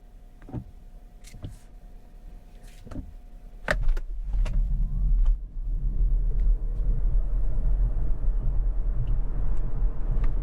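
A few clicks and switch sounds, then an XPeng G6 electric car surges off in launch mode with a low, steadily building rumble of acceleration and road noise.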